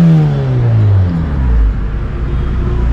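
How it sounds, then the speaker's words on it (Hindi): A Honda superbike with a full exhaust pulls away, its loud, deep engine note rising and falling through the gears, close by and continuous with no speech. "तो ये है फुल एग्जॉस्ट नोट, आपको आवाज़ आ रहा है कि नहीं?"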